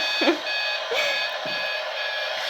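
A toy steering wheel plays electronic beeps and tonal sounds, steady and close, with a few soft bumps of handling.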